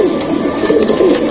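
A male Murshidabad pigeon in a loft cooing close and clear, a short continuous throaty murmur rising and falling in pitch.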